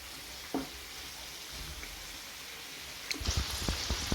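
Sausages frying in a pan, a steady low sizzle with soft crackles and a burst of spitting pops near the end, heard alone.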